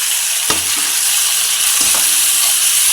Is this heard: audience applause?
no